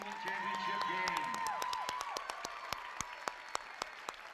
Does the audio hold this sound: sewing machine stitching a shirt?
no